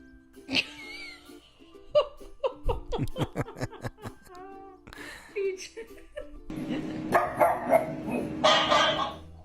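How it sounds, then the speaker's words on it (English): Dogs bark back and forth in an uneven barking contest, a run of quick, loud barks early on, then scattered yips and growly barks with laughter and talk mixed in. "An inconsistent barking contest."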